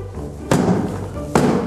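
A homemade air cannon fires twice, each shot a sharp, close thud about a second apart, with no talking over the blasts.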